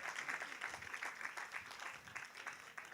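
A church congregation claps for the Lord, a faint, distant round of applause holding steady for a few seconds.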